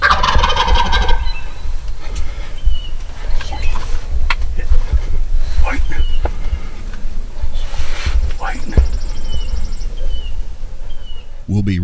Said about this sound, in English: There's a big gobbler.